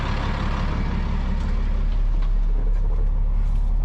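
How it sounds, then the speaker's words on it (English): A truck engine runs steadily in the rain, a constant low rumble mixed with broadband hiss, close and continuous throughout. "How's that truck, Tony?"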